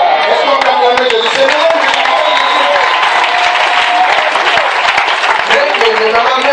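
A church congregation applauding and cheering to acclaim Jesus during a prophet's deliverance service, with dense, steady clapping and crowd voices filling the whole stretch at high, even loudness, plus scattered shouts mixed in.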